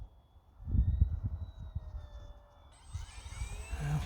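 A small UMX Air Tractor radio-controlled plane's electric motor winds up to full throttle, a thin rising whine that swells from faint to louder as the plane climbs, with wind rumble and handling noise close by.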